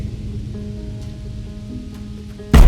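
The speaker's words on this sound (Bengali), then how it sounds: "সে শুনতে পায় বাইরে বৃষ্টি হচ্ছে" Steady rain falls at night as a soft, continuous hiss, with a sudden loud burst breaking in right at the end.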